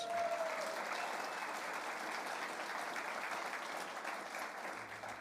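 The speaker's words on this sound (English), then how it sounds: "Our event manager, Pip, everyone give her a round of applause." A convention audience at a New Zealand First party event claps steadily and densely for about five seconds, a loud continuous wash of applause that tapers slightly at the end, with no talking over it.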